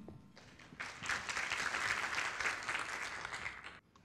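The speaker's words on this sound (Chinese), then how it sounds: "让我们掌声欢迎 Edward Lien。" Audience applause welcoming a speaker at a conference talk on display solutions for mobile consumer electronics: a dense burst of clapping swells about a second in, holds steady and loud, then cuts off near the end.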